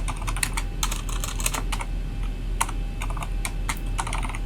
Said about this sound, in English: I'm now typing with my keyboard in there.